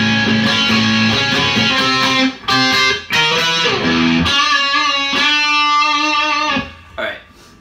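An electric guitar plays the first pre-chorus of a song in loud, sustained chords and octave notes, alone with no talk.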